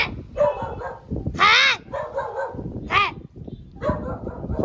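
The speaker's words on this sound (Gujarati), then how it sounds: "જો કુતરું બસવા માંડ્યું" A dog barks several times nearby in short, sharp bursts with brief whiny yelps between them, loud and close.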